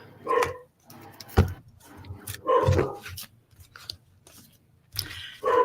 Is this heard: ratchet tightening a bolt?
no